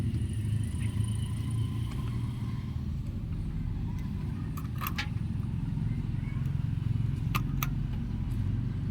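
A washing machine motor hums steadily after being plugged into power, a continuous low drone with a few faint clicks and rattles.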